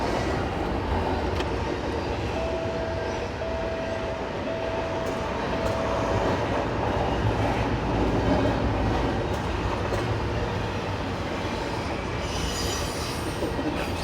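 A loaded freight train with spine cars sharing axles rolls steadily past nearby, with continuous rumbling, rhythmic wheel clatter and a thin squeal running through the passage, no voices.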